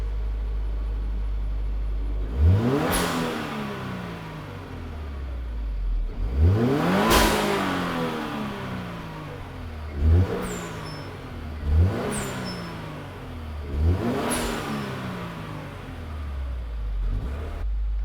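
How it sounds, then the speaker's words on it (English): A Mitsubishi Eclipse fitted with a GReddy Type S blow-off valve revs repeatedly. Five or six throttle blips climb and fall, each ending in a sharp hissing whoosh from the valve, loud and close. "the blow-off valve is on the car and it works"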